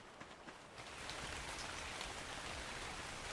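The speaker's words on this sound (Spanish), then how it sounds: "Se me pone a llover" Rain pours in the survival video game ARK, a steady, dense hiss of falling drops that swells after the first second and continues without a break, with no voices.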